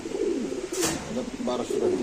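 Caged pigeons at a bustling pigeon market give soft repeated coos close by, partly under ongoing voices of people bargaining nearby.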